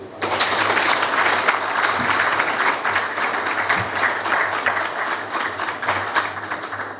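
Sustained, dense applause from a large audience at a Simba club sponsorship announcement, many hands clapping steadily for several seconds over a faint low hum, loud and close.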